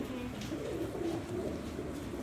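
Racing pigeons crated for a race coo in a low, steady murmur close by, several birds overlapping continuously with faint background noise.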